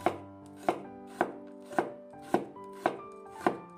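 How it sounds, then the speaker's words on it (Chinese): A kitchen knife slices through garlic cloves on a cutting board in seven even, evenly spaced chops, each a crisp close knock with a short ring, alone in a quiet kitchen. "准备几瓣大蒜，先切成片"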